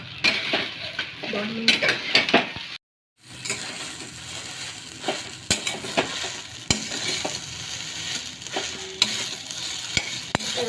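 Sabudana khichdi stir-fried in a pan for a fasting meal, with steady scraping of a spatula and soft sizzling throughout, close and fairly loud, briefly cut to silence once, while a voice speaks a few words.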